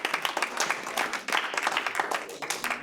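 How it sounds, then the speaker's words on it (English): Audience applause for the speakers at a humorous speech contest: dense, steady clapping from a crowd, sustained and fairly even across the whole stretch, with a brief dip partway through. "another round of applause for all of our speakers"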